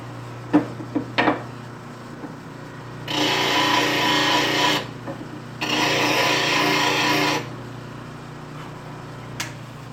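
A bench grinder sharpens a rusty skew chisel in two sustained grinding passes of a few seconds each, preceded by a few light clicks and taps, with a steady motor hum beneath.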